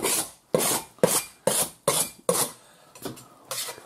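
A scraper drags across a surface during home renovation in about six firm, evenly spaced rasping strokes, close and loud, followed by a few fainter scrapes.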